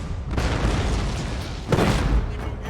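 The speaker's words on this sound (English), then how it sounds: "it looks like the cannon wiped out his cannon" A heavy cannon blast rumbles in the Shogun 2 Total War PC battle game, a sustained low boom with a second burst of impact near the end, loud and dense throughout.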